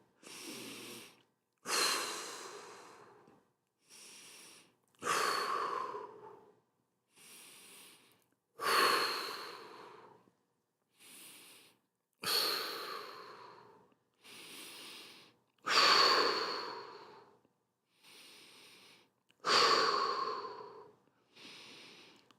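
Deep, slow breathing held through an arm and shoulder stretch during a home-gym workout, heard close and clear: about a dozen audible inhales and long exhales in a steady rhythm with short silences between, and no talking.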